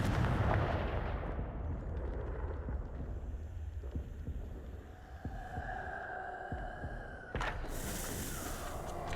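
Confringo fire spell explosions in the video game Hogwarts Legacy, heavy booming blasts at the start that fade into rumbling, with a few sharper thuds and a bright whoosh near the end.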